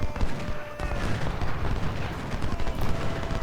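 Skirmisher musket fire in Ultimate General: Civil War at Cedar Mountain, a continuous crackle of scattered gunshots and distant booming volleys forming a dense battle din with no clear pauses.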